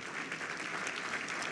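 An audience at a Chicago luncheon breaks into steady, dense applause, many hands clapping together in a brief, even burst heard from within the room.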